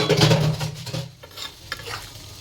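In a home kitchen, a pan of potatoes and banana flower sizzles loudly as water goes in, then settles into quieter bubbling and stirring sounds.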